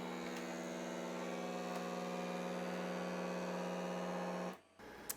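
A vacuum sealer pump hums steadily and close while drawing vacuum on a canning jar of dried food, then shuts off abruptly near the end.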